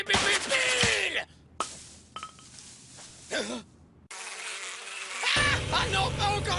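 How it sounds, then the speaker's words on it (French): Cartoon bees buzz in bursts, insect-like whining drones rising and cutting off between sections, mixed with other animated sound effects. "pas encore les abeilles, non. Elles font mal, celles-ci."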